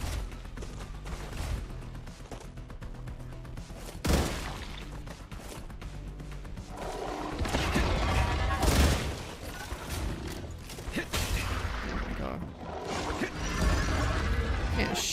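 Gunfire in the video game StarRupture, a dense stretch of rapid shots, crashes and booming impacts that swells louder in the second half, close and loud against a steady game soundscape.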